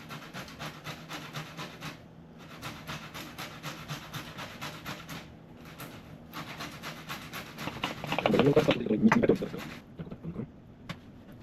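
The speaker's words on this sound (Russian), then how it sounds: "не очень хорошо вареная морковка, конечно, трется на мелкой терке" Boiled carrot rubbed against a fine grater in a kitchen, a run of soft rhythmic rasping strokes that grows louder near the end before stopping.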